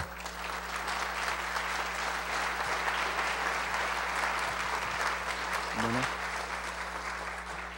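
An audience at a human rights reform lecture applauds steadily for several seconds, a dense, continuous clatter of many hands clapping, welcoming a speaker to the microphone.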